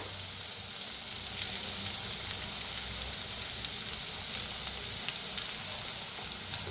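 Potatoes frying in a pan with crushed peanuts and salt for a spicy aloo dish, a steady, dense sizzle holding at an even level throughout with a few faint clicks and no voices.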